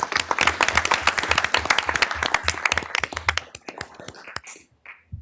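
Applause comes from the audience at a county board meeting. The dense clapping holds for about three seconds and then thins into scattered claps that fade out.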